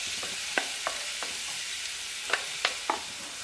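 Onion frying in oil in a pan, a steady close sizzle with a handful of sharp pops and scrapes of stirring spread across the moment, no voices.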